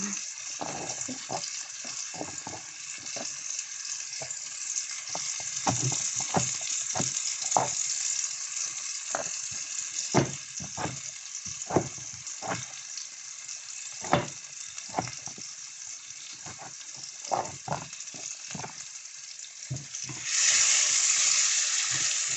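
Pasta ingredients fry in a pan with a steady broadband sizzle, punctuated by frequent crackling pops and stirring scrapes, close and continuous, ending with a louder rush of hissing.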